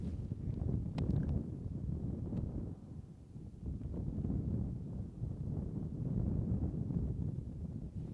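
Steady wind in Utsjoki, Finland buffets the microphone with a low, continuous rumble and gusty swells throughout, no other sounds standing out.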